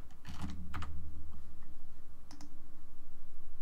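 Quick bursts of keystrokes on a computer keyboard, close and crisp, with short pauses between clusters of clicks.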